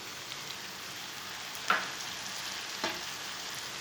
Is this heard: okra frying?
yes